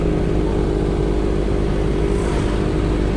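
A Yamaha R25 motorcycle engine runs steadily close by, a continuous low rumble with no talking over it.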